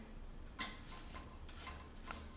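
Quinoa goes into a pot coated with coconut oil for toasting, heard as a few faint metallic clinks and soft scrapes of a utensil against the pan in a quiet kitchen.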